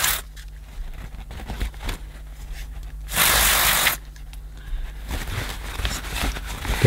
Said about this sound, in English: I'll give it a bit of a squirt with the old contact cleaner